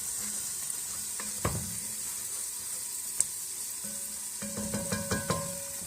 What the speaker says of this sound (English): Meanwhile, we're going to keep our roux stirred. Make sure it doesn't stick. Just kind of keeping it simmering.